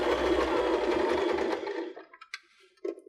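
A sewing machine stitches a seam on a cork-trimmed purse, a close, fast whirring run for about two seconds that then stops, followed by a few small clicks and handling noises.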